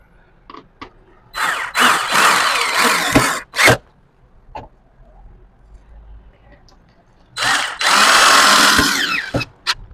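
A power drill drives screws into melamine furniture pieces held in clamps, with several short whirring bursts and two longer, louder runs, close by, separated by quieter pauses and small handling noises.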